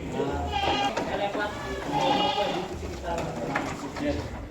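Goats and sheep on a village livestock farm in Betapus, Lempake, Samarinda Utara, bleating now and then at moderate distance beneath a continuous voice talking over them.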